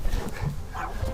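A small dog gives a quick bark and yip beside a 1961 VW ragtop Beetle, mixed with nearby voices.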